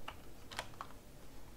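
Computer keyboard keys are pressed for Photoshop shortcuts in a quick burst of sharp clicks, a handful of close, crisp taps with short gaps between them and no voice.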